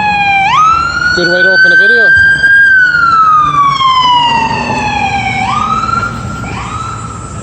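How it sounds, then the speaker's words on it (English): An ambulance siren wails loudly as it passes along a city street in Montreal, its pitch sweeping up and down and then falling away, with traffic rumbling underneath and someone talking over it. "Those new ambulances that they got out now."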